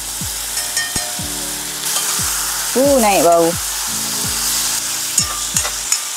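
Chicken sizzles and crackles steadily in a hot pan, with brief clattering stirs and a short spoken remark partway through.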